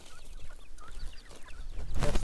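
Free-range chickens clucking in a henhouse, scattered soft clucks and chirps at moderate distance over a rustling background, with a louder burst of movement near the end.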